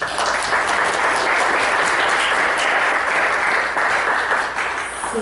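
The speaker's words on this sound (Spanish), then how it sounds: "Pido un aplauso para él." An academic colloquium audience applauds a professor with full, continuous clapping from many hands, loud and even throughout without speech.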